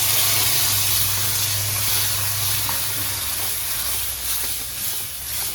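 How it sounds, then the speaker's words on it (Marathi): Black masala paste hitting a hot pan for spicy mutton, producing a loud, steady hiss and sizzle that fades slightly as it settles, close and continuous with no talking. "आता वाटण घालते हे काळ वाटण"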